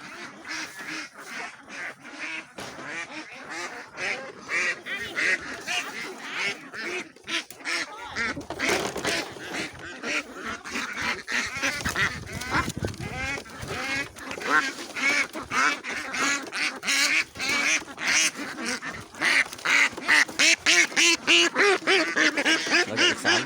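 A large flock of young laying ducks quacks loudly and continuously, a dense overlapping chorus of rapid calls that grows busier toward the end.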